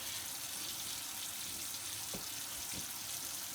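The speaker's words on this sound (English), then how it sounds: "I did not turn off the faucet." A bathroom faucet left running after hand washing gives a faint, steady hiss of water, with a couple of soft knocks near the end and no talking.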